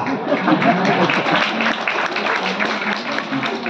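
A small handful of audience members clap at a poetry recital, the scattered applause mixed with some voices and background murmur.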